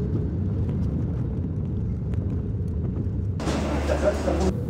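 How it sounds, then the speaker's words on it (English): Steady low airliner cabin rumble during descent into Bogotá fills the clip, a constant droning hum; near the end a brighter hiss of rushing air swells briefly over it. "The plane is starting to go down."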